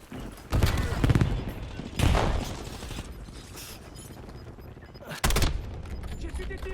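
Call of Duty Warzone gunfire: loud bursts of rapid automatic shots in three clusters, with scattered mechanical clatter between them and a voice briefly heard.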